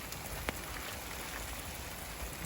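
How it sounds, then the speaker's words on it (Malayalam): Heavy rain falling steadily in the UK, a dense, even hiss of drops on surfaces with one brief tap near the start, close and continuous with no talk. "നല്ല മഴയാണല്ലോ ഇന്ന്."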